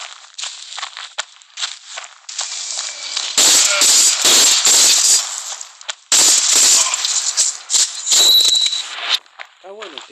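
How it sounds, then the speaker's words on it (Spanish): Sniper rifle shots crack out in a video game amid a busy, thin-sounding mix of gunfire and effects, loud bursts arriving in clusters over a steady hiss, with speech mixed in. "Está bueno este francotirador"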